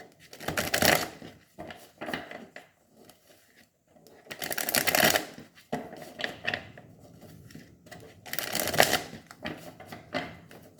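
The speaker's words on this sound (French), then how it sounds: "je vais tirer 5 cartes pour vous." A deck of tarot cards being shuffled and dealt, heard as several loud riffling bursts separated by quieter flicks and soft slaps as cards are drawn and laid down, close up.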